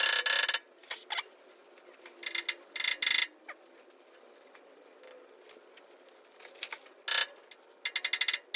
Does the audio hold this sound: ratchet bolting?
yes